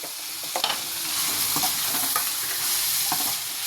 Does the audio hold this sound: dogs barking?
no